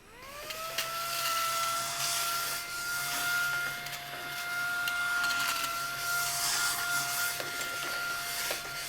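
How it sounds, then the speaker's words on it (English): A vacuum cleaner runs steadily for several seconds during book repair work, a constant whining drone with a sustained pitch, moderately loud with no talking over it. "Vacuum warning."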